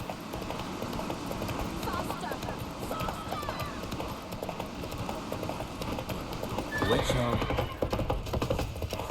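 Roach the horse gallops with steady hoofbeat clip-clop and gives a whinny, set in The Witcher 3 during a chase, with voices and game sounds over the hooves.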